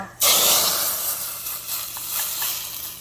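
A sudden loud hiss as tempering spices hit hot oil for sambar, then a steady crackling sizzle that slowly eases off, up close with no voices.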